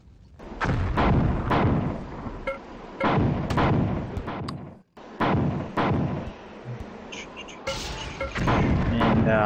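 A cyborg enemy in a video game lobs grenades that burst in a series of heavy booming explosions, separated by short gaps, with one clear break midway.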